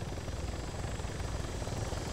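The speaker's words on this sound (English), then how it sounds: "they're picking up everything up in the choppers by the sound of it" Helicopter in the video game Arma 3 Altis Life, a steady low rotor drone and engine rumble that holds evenly throughout, with no voices over it.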